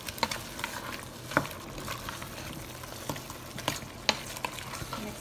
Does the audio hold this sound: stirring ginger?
yes